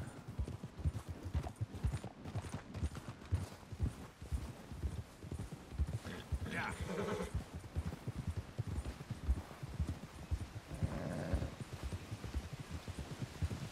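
Horse hooves clip-clop steadily through a Red Dead Redemption 2 game scene, a continuous rhythmic trot at moderate distance with brief brighter bursts that could be a whinny, no talking.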